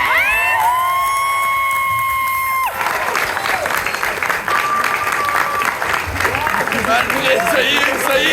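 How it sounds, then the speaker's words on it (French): Party guests at a celebration erupt in cheering and applause after a voice announces a name, loud crowd noise with shouts running on continuously after a short spoken introduction. "je veux vraiment une acclamation."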